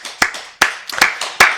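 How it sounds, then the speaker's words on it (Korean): A church congregation claps in unison during a Wednesday worship service, sharp rhythmic hand claps landing about every half second, close and fairly loud with no talk over them. "박수로 영광 드리겠습니다."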